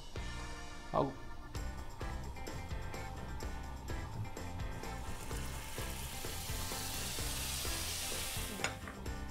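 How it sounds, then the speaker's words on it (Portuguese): Butter sizzles steadily on a hot griddle, a soft continuous frying hiss with faint background music underneath. "Coloca a manteiga na chapa."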